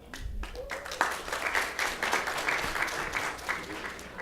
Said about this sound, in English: can you please hold your applause until the end?